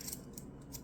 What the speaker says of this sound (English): All right, so now I'm going to take my scissors.